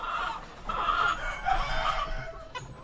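Chickens cluck and murmur continuously at close range on a small farm, several birds overlapping in a busy, steady barnyard chatter.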